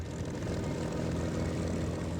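The engine of a P-63 Kingcobra, a World War II propeller fighter, drones as a loud, steady roar, close and unbroken with no talk.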